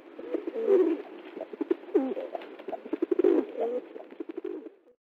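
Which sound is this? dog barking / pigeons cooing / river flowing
pigeons cooing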